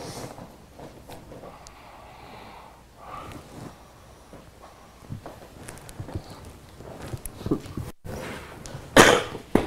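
A person coughs a few times near the end, with rough throaty bursts over a quiet room background after a relaxation session.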